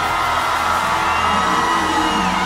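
Congregation screaming together at a church service, a loud, sustained wall of crowd yelling and whooping that fills the whole moment.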